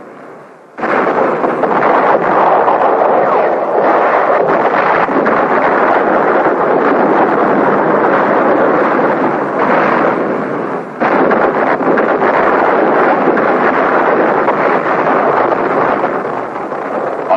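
Shelling strikes a Marine ammunition dump at Khe Sanh during the Vietnam War, producing a loud, continuous, roaring rumble of explosions that holds steady for many seconds, with no voices.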